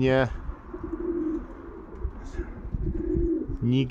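Pigeons coo in a loft, low throaty murmurs with soft wing and shuffling sounds nearby, while a voice speaks at the start and end.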